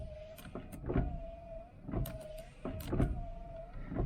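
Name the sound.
electric radiator fan running on a 1978 El Camino SS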